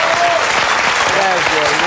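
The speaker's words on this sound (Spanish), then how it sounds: "Un aplauso, por favor." Studio audience applause on a Mexican television show, a loud, dense burst of clapping with voices talking and calling out over it.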